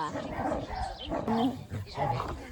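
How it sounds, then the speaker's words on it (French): A one-year-old dog makes small whimpering and yipping sounds mixed with someone talking nearby, fairly quiet overall. "C'est le chien de ma soeur"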